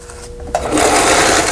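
Riccar N530 household sewing machine stitching in reverse, a steady close mechanical whir that starts abruptly and runs continuously, loud and alone.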